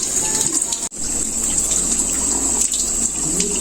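Water squeezed out of a washed Dyson V8 vacuum filter, a loud, steady splashing rush of water with a brief break near the start.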